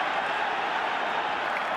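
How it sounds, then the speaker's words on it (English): Home football crowd roaring in a stadium during a Barcelona versus Real Madrid match with Messi on the ball, a dense sustained roar that holds steady throughout with no break. "Roared on by the home crowd"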